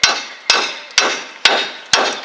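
Five sharp metallic hammer strikes on a Chevy S-10 lower ball joint land at an even pace, about half a second apart, each ringing briefly before the next blow.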